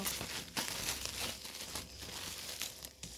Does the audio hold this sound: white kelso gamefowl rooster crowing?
no